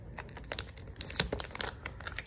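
Scotch tape is pulled and pressed onto gift wrap paper, producing a short burst of close crinkling, crackling and tearing sounds.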